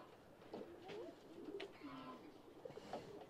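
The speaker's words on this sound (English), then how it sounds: "A pair of ringneck doves." A pair of ringneck doves coo softly in an aviary, their low rolling calls repeating several times at moderate distance against a quiet background.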